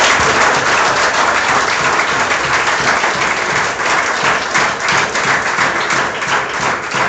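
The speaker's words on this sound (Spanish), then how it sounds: "yo exijo un aplauso a Jesucristo." Sustained applause from a church congregation, steady and dense for several seconds with no speech over it.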